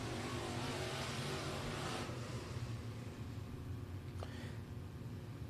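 A race car engine refiring on a short track during a B-main feature, heard as a loud continuous broadband engine roar with revving, steady throughout with no talk.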